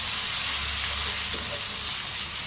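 Ginger and garlic frying in hot oil with chili, coriander and cumin for a mung dal and cucumber curry, giving a steady, close, even sizzle and hiss throughout, with no talking.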